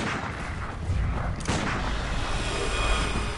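Gunfire in the video game Bloodborne, a loud, close barrage of booming shots and rumbling blasts that overlap densely, with a sharp crack about midway through.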